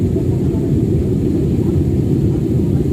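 Steady, loud low rumble of an airliner cabin in cruise on a flight from Makassar to Sorong, a continuous broadband drone with no breaks or talk.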